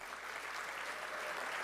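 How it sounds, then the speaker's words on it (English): Applause at a school athletics awards ceremony for the athletic administration, a steady, even wash of clapping from an indoor audience that holds at a moderate level throughout, with no voices over it. "they deserve a huge round of applause"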